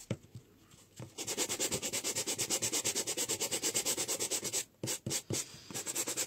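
Sandpaper rubs wood with fast, even back-and-forth strokes, a steady rasping rhythm that pauses briefly near the end before resuming.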